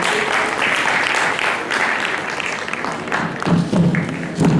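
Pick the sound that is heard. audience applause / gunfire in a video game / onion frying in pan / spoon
audience applause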